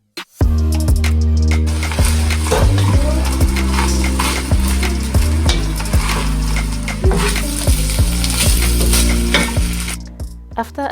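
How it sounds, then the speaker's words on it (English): Fried rice sizzles loudly in a pan during Nigerian party cooking, while a spatula scrapes and stirs it in repeated strokes. No one speaks. "After adding my herbs to the rice, my sister continued frying it"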